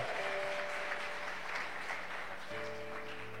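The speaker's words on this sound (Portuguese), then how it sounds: "Pode aplaudir, se for para Ele" A church congregation applauds in a steady, full round of clapping, with a sustained organ or keyboard chord ringing underneath throughout.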